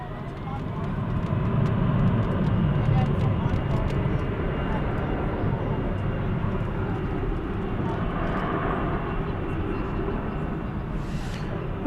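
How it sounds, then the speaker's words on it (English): An American Airlines Airbus A321 airliner at DFW Airport produces a loud, sustained jet engine roar that swells early and holds as a broad rumble, with no one talking over it. "It's an Airbus A321."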